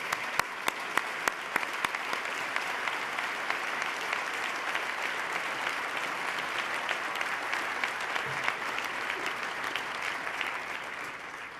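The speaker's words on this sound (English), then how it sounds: "Please stand, gentlemen, so we can give you a round of applause." A crowd in a legislative chamber applauds state leaders during a State of the State address, a long, even roar of clapping with a few sharp, louder claps near the start, continuing unbroken throughout.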